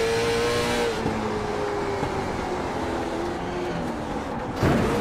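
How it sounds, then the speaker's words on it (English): Race car brakes locking up during a NORA Outlaw Tour race at Lanier, a loud continuous engine roar with tire and brake noise, ending in a brief sharp burst of sound. "you can hear on the brakes, locked up"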